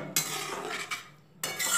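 A spoon stirs shol fish curry in a pan just after water has been added, making two short bursts of wet scraping and swishing close by, with a brief quieter gap between them and no voices.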